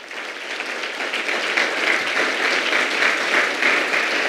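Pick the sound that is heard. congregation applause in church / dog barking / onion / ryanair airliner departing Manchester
congregation applause in church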